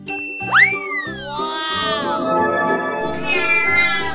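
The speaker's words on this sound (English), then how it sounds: "Cat." A cartoon cat meows in a children's learning cartoon, a bright, sliding call set over a tinkling, chiming musical backing, loud and close with no talking.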